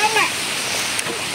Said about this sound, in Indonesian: Dan lagi berteduh karena ada hujan.